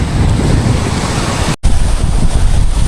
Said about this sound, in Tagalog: Medyo may alon-alon dito